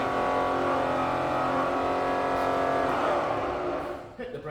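Bridgeport milling machine with a 42-inch table, its spindle motor humming steadily at stepped speeds, a loud, close, continuous drone with shifting tonal bands that starts to wind down near the end.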